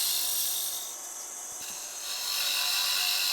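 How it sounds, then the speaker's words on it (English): A wooden box is hollowed out to wall thickness with a cutting tool, giving a continuous hissing, scraping rasp that eases briefly in the middle and then returns to full strength, close and steady. "I'm going to hollow it out to my desired wall thickness here."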